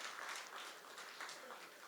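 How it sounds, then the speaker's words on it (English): Audience at a corporate awards ceremony clapping in a faint, distant burst of applause that runs steadily for a couple of seconds. "Come on, guys, let's give a big round of applause."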